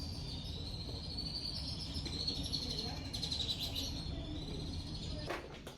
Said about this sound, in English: Just listen to how loud these birds are.